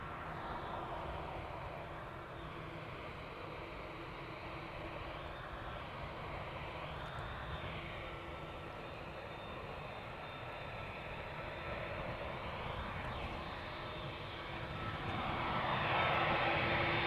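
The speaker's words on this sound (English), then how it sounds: "Going to Toronto, this 777-300ER with a beautiful sound." An eleven-year-old Boeing 777-300ER airliner departs Amsterdam Schiphol for Toronto, its engines giving a continuous deep roar with a low steady hum that swells slightly toward the end.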